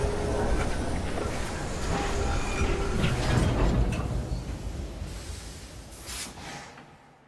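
A train running in the Assassin's Creed Syndicate video game, a loud rumbling, clattering roll with mechanical hiss that gradually fades away toward the end.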